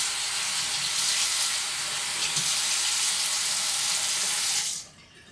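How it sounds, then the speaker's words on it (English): Tap water runs steadily into a sink as a makeup sponge is wetted beneath the stream, a close, continuous hiss that cuts off abruptly near the end, with no talking. "we are going to take our sponge and we're going to rub it under some water"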